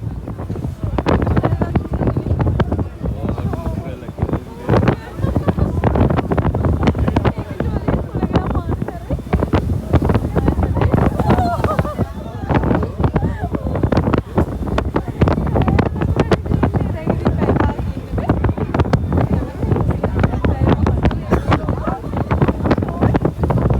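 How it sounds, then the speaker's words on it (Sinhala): Strong gusting wind buffets the microphone on a whale-watching boat at sea off Mirissa, a loud continuous roar with constant rumble; a person speaks beneath it. "මං ඔයාලට කිව්වනේ අද හුළඟ පුදුම තරම් සැරයි කියලා"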